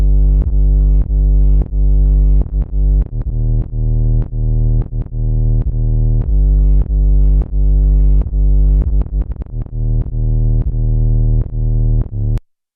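A loud, saturated 808 bass line with an external sidechain effect pumps in steady repeated pulses. Each note ducks rhythmically in a driving pattern throughout, with no voice over it.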